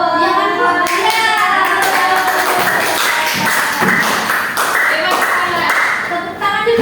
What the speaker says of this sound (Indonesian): Tepuk tangan juga ya untuk kelompok satu dan tiga untuk mereka.